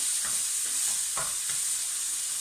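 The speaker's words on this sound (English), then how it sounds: "Once that's fried up for a couple of minutes" Minced meat frying for a bolognaise sauce in a pan, a steady close sizzle with a few soft stirring scrapes and no voices.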